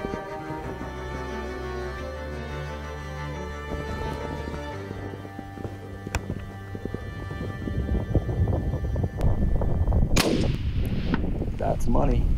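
A rifle shot cracks out during an antelope hunt in Wyoming, a sharp single report followed by a louder burst and rustling, heard outdoors against a background of steady low rumble.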